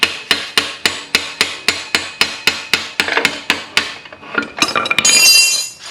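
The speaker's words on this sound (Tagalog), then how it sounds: "get either a hammer. Tapos just lightly tap the bolt." A hammer lightly taps a motorcycle's rear axle bolt while the chain and sprocket are being removed, about a dozen even, ringing metallic knocks close by, then a brief scuffle of metal noise at the end.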